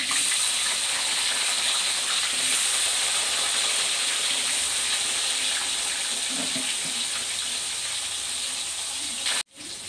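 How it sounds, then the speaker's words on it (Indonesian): Eggplant frying in hot oil for a stew of eggplant, egg, tofu and tempeh gives a steady, loud hiss and sizzle with fine crackle throughout, cutting off abruptly just before the end. "setelah itu saya goreng terongnya tidak setengah matang ya"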